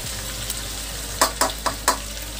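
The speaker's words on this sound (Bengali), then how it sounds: "এখন এটা দিয়ে আবার কষাতে থাকি আস্তে আস্তে কষাই" Chicken frying in a pan with ground coriander, cumin and chilli powder, a steady close sizzle broken by several quick scraping stirs near the end.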